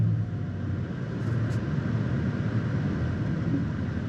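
Low, steady engine rumble from a 2021 Chevrolet Blazer RS climbing off pavement at about half throttle, with a continuous drone and wind-like hiss and no talk.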